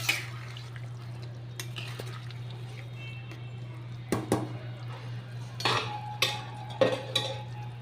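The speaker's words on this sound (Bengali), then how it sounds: "আর একটুখানি ঘি দিয়ে দিচ্ছি।" Ghee being added to a vegetarian cauliflower curry in a pan: scattered metallic clinks and scrapes of a spoon against cookware ring out over a low, steady kitchen hum.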